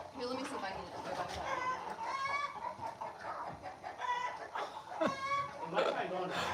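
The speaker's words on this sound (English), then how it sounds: "Screaming like that. That's one of them one brain cell chickens." A chicken squawks and screams in repeated harsh, rising cries close by, with a person talking in between and over the calls.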